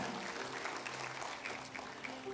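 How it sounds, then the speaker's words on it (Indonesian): A church congregation claps together at a Pentecost service, a soft, steady wash of applause heard from a distance in a large hall. "Tepuk tangan buat Tuhan ya."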